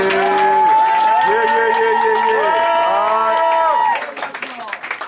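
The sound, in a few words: audience applauding a slam poet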